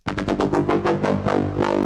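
A bright Serum synth patch without multiband compression plays: a saw wave with 7 detuned voices and filtering, heard as a quick run of about eight punchy rhythmic notes, loud and alone, then a brief sustained tail.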